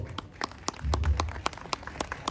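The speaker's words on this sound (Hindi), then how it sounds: "तो इस तरह के आयोजन करने वालों के लिए एक जोरदार तालियां तो बनती है दोस्तों" Sparse, distinct handclaps at an influencer meet, about a dozen crisp claps in a loose rhythm with a low thud partway through, sounding like only a few people clapping rather than a full crowd.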